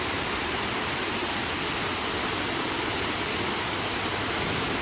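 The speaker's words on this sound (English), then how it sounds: "This is one of my favorite waterfalls at the Riverwalk." Steady, full-bodied rush of a waterfall on the San Antonio Riverwalk, continuous and fairly loud with no breaks or voices.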